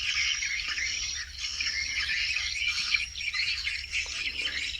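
Birds chatter around a birdhouse, a dense layer of overlapping chirps, tweets and squawks at moderate distance, continuous with a faint low background hum.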